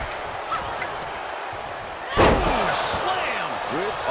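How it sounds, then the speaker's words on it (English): A wrestler crashes onto the ring mat in a women's pro wrestling match, one loud, sharp slam near the middle of the clip over steady arena crowd noise. "Slam with authority."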